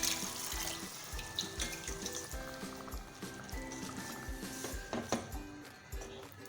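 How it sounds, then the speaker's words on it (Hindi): Water pours steadily from a glass into a cooking pot of bhindi gosht, with a continuous splashing rush, close by, over a faint background hum and no speech. "अब हम इसमें ऐड कर देंगे पानी।"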